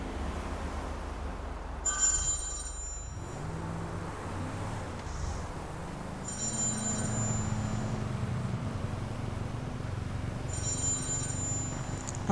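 A mobile phone rings in repeated bursts, about three spaced rings across the clip, heard over a steady rumble of driving and traffic sound from a GTA game session.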